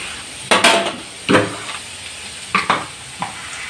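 Onions frying in a pan with a steady sizzle, stirred with a utensil that scrapes and clanks against the pan in several short bursts. No one speaks.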